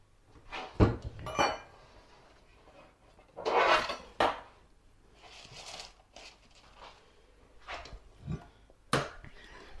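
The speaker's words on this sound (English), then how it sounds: "So now we're just going to put it in there and then pop it in the oven." Brownie batter is scraped and dropped into a lined baking tin, giving scattered clinks and knocks of a utensil against the tin. Several sharp, separate taps and scrapes stand out over quiet gaps.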